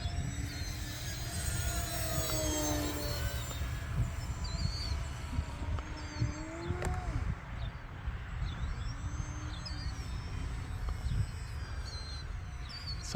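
A Flex Innovations QQ Yak 55 RC model airplane engine drones steadily throughout, with its pitch rising and falling as it passes, over outdoor background noise and faint bird calls.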